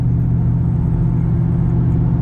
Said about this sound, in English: here's a truck coming up on me